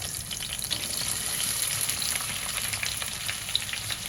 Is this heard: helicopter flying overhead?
no